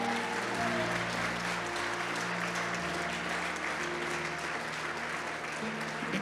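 A church congregation at a Spanish-language service applauds loudly and steadily, a dense, sustained wash of clapping from many people, with faint organ or keyboard tones underneath.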